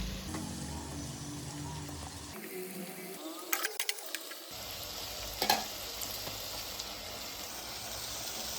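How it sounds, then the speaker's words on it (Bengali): Marinated meat sizzles and fries in a pan while being stirred, a steady crackling hiss broken by sharp scraping clicks of a utensil against the pan, with no talking. "এবারে ম্যারিনেট করা মাংসটা দিয়ে কিছুক্ষণ ভালোভাবে কষিয়ে নেব"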